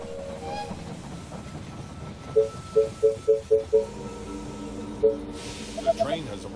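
Train arriving at a station in the video game They Are Billions: a rhythmic run of five or six clanking pulses over a steady rumble and hiss, then a few scattered clunks as it settles.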